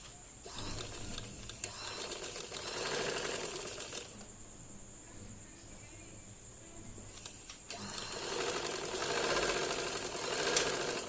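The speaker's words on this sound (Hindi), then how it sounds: "तो चलिए सिलाई लगाते हैं।" Sewing machine stitching trouser fabric, a rapid mechanical whirring in two long runs with a quieter pause between, fairly close but low in level.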